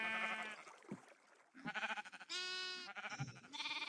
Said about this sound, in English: Look at all our sheep.